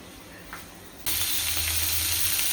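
Pointed gourd (kakrol), steamed with salt and turmeric, starts frying in a pan: after a quiet first second, a loud, steady sizzle bursts in and continues without talk.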